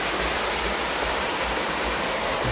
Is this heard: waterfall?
yes